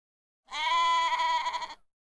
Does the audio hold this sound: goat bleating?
yes